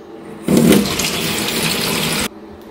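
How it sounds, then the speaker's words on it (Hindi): Water runs from a kitchen tap into a glass, starting abruptly with a splashy gush and then a steady rushing stream for nearly two seconds before cutting off cleanly, close and fairly loud, with no talking. "ग्लास में हम भरेंगे पानी।"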